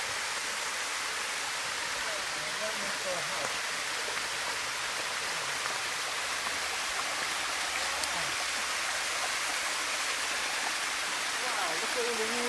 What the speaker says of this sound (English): Yeah, see the waterfall in here.